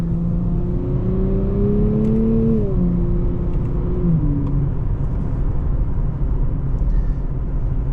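A 2024 Nissan Z Heritage Edition with an automatic transmission drives along, its engine droning steadily from inside the cabin, the pitch rising then stepping down through a gearshift, over constant road and tire roar.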